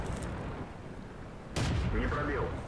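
A KV-220 tank cannon in a tank video game fires standard ammo, a sudden loud blast at mid-clip followed by a sustained rumbling boom and debris-like rattle over steady engine noise.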